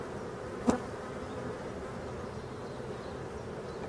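Honeybees at an opened hive give off a steady, close, humming buzz that fills the whole stretch, with one brief, sharper sound near the start.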